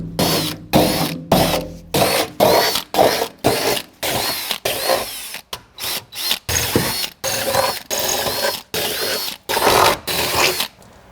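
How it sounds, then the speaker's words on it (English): A drill bores holes for nutserts in steel Jeep armor panels, each run a loud burst of whirring and grinding broken by short pauses, repeated in a steady rhythm of about fifteen bursts at close range. "let's drill all these holes out and insert the nutserts"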